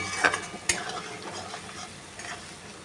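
Boiled potatoes are stirred with spices and Kashmiri chilli in a pan, giving a soft sizzle with a few sharp scrapes and clicks of the spoon. The sound is fairly quiet and close.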